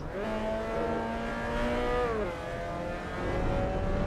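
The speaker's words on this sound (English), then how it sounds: "the engines, they don't sound in tune. They're out of tune. It's like the pitch is going up and down." Racing car engines rev in Assetto Corsa EVO, loud, close, strained tones sweeping up and dipping in pitch with a slightly out-of-tune wavering quality, continuous with no talking.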